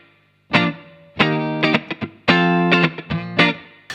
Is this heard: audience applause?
no